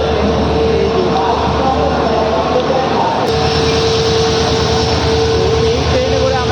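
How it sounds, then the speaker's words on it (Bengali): The Howrah–SMVT Bengaluru express pulls into a railway platform with a loud, continuous low rumble and engine drone, steady throughout, with a sharp click partway through. "অনেকক্ষণ ওয়েট করার পর এখন ফাইনালি ট্রেনটা দিকে আসছে।"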